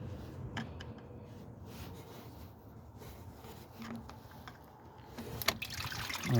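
Engine coolant from a 2007 BMW 328i draining out of a disconnected bottom hose into a pan, a quiet continuous trickle and dribble of liquid with small handling noises, ending in a brief louder splash.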